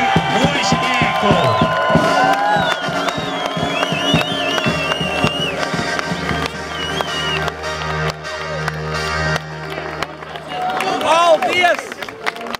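A concert audience at the finale of a brass band festival's grand concert in Līgatne, Latvia, applauds and cheers, a dense, steady wash of clapping with shouts, whoops and crowd voices that stays loud throughout and swells again near the end.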